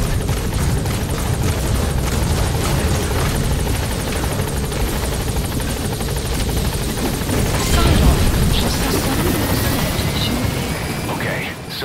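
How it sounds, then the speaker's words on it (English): A helicopter's steady rotor thrum and engine whine hold close and loud throughout, with a radio-style voice speaking over it in the game Metal Gear Solid V: The Phantom Pain. "Support helicopter has arrived."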